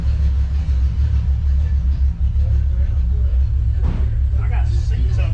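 A 1973 Ford Pinto Squire Wagon with a Flowmaster exhaust idles after sitting for about six months, giving a steady low rumbling burble close by, with a voice talking briefly over it.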